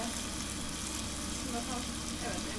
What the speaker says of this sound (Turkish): Şu an pirinçleri kattım. Pirinçler birazcık kavrulsun.